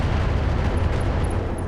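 Heavy mech weapons in the Roguetech mod of BattleTech fire in one dense, loud alpha strike from a 300-ton Kirov, a continuous roaring barrage with no talk.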